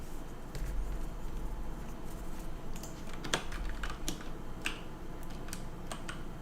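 Typing on a computer keyboard, with faint, irregular key clicks and taps scattered over a low background hum, fairly quiet and distant.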